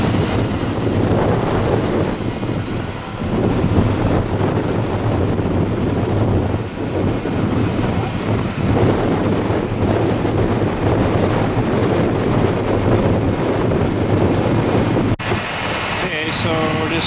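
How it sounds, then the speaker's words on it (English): Strong wind buffets the microphone outdoors at a burial vault setup on soft ground, a loud continuous roar with gusts throughout and a brief change near the end. "It's really, really windy out here now"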